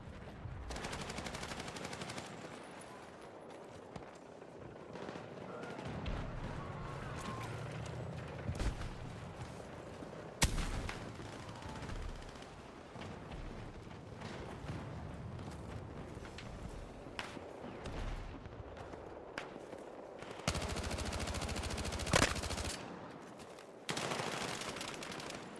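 Rapid submachine gun fire in the Helldivers video game, dense bursts of shots running nearly the whole time with a louder burst near the end, plus mechanical clatter.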